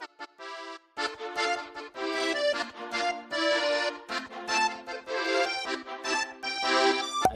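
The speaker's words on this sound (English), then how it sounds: "After that, I went and did this sound from Expand," A spiccato string patch from the Expand synth plugin plays a short, bouncy melody of quick detached notes in steady rhythm. The phrases are clear and up front with no voices.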